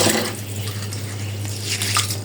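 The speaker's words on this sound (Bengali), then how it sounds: "তো সেই জন্য আমি প্রথমে সাবুদানাগুলো ভালো করে ধুয়ে নিব।" Sago pearls washed in water, with brief close sloshing and trickling over a low steady hum.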